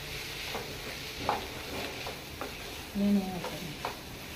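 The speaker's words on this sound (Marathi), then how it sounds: "एकदा मिक्स करून घेता पळय बरें ताका मिक्स करून घेवपाचें" Spoon stirring coriander and chili powder into a potato and sweet corn masala in a pan, soft scraping strokes over a faint sizzle, with a few louder knocks, no talk.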